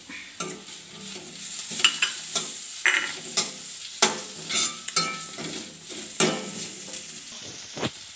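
Green chilli, ginger and garlic sauté in a pan for a vermicelli chicken biryani, a steady sizzle broken by repeated scraping stirs of a spoon against the pan.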